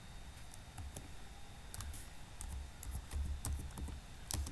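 Soft, scattered key clicks from a computer keyboard as a cell or sheet name is typed in Excel, quiet and close, with irregular spacing over a faint background hiss.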